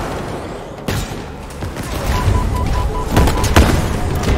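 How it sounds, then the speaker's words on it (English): Rumbling explosions and gunfire in Halo Infinite, a dense continuous roar that swells louder toward the end with sharp blasts on top. "everything is exploding, bro"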